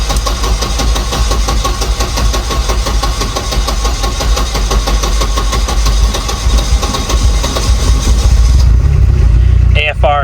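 A Volvo 240 Turbo wagon engine runs loud and close with a rough, pulsing idle that stays steady and then cuts off near the end, with a brief clatter as people talk around it.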